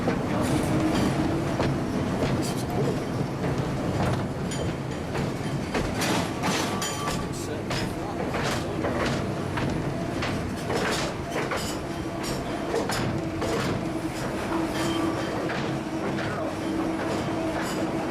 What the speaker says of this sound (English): the train's going to jolt a little bit when it starts